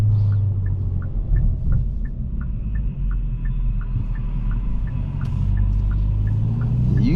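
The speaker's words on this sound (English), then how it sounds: "You can hear the note a little bit more loud in sport mode" Engine note of a 2023 Kia Forte GT driven in sport mode, a steady low rumbling drone with a faint repeating ticking above it, continuous and close from inside the cabin, with no talking.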